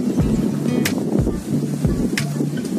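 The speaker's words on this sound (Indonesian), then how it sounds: "anginnya kenceng banget guys" Strong wind gusting across the microphone at the Otanaha fortress lookout, a loud continuous buffeting roar with repeated thumps and no talk.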